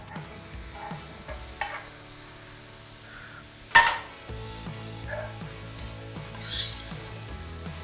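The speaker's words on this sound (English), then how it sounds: "You want to get them into the pan with some olive oil" Onions cooking gently over low heat in a pan with olive oil and a pinch of salt, a soft steady sizzle punctuated by stirring and the scrape and clatter of a utensil against the pan, with one sharp knock midway.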